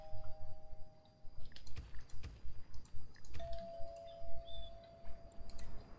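A two-tone doorbell rings in the video game SimCity, chiming once early and again midway, each ring sustained and clear over soft clicking and keyboard tapping in the background.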